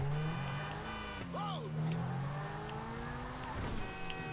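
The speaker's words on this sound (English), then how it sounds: "This is my Zen Torno, I believe it is, from the last update. Very, very fast." A Zentorno sports car in a video game drives along with a sustained engine drone that shifts in pitch and briefly whines up and down, a person talking over it.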